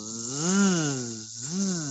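A voice hums a buzzing, wavering drone that rises and falls twice, imitating a bee in flight.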